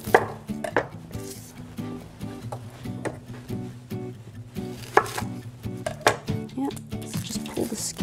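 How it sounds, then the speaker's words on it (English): A knife chops a single shallot on a board in a home kitchen, with quick irregular taps in short bursts and oil heating quietly in the background. "I'm just gonna chop 1 shallot."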